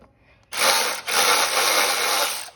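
A bolt is unscrewed from the carburetor of a Briggs and Stratton 500 series single-cylinder lawn mower engine, giving a loud, close, continuous rasping tool noise that lasts about two seconds with one brief dip, and no talking.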